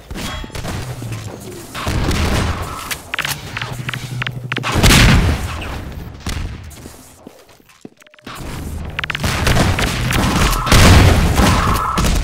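Half-Life 2 Deathmatch gunfire comes in loud bursts of shots and heavy booms, separated by brief quieter gaps, with a final cluster of blasts toward the end.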